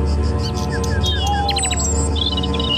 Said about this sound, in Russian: А это дрозд, верно?